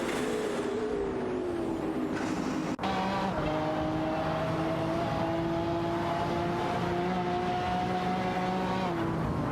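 Race cars roar in a racing video game, a Porsche 911 997 GT2 RS, an Aston Martin Vantage and a Lamborghini Diablo among them, with sustained engine drones rising in pitch through gear changes and a sharp click midway.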